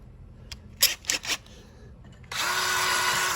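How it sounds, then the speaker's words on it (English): A few short clicks and bursts, then a power drill starts and runs steadily with a high whine until the end, drilling on a 1998 double jet ski trailer. "I'm going to run this in one more time."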